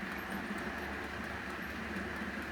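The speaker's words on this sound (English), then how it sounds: "even the sound of it going along the tracks, it does sound like a train" A miniature model train runs along its tracks with a steady, even rolling whir and faint ticking, heard alone and fairly quiet.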